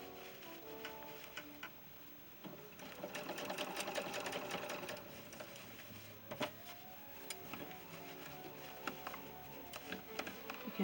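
Sewing machine stitching dress shirt fabric for a ball-jointed doll, a quiet rapid mechanical chatter of the needle running in bursts with small ticks and clicks between, close and without talk.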